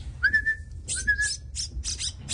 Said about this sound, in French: Pour les stimuler un peu avant de manger, on siffle en fait.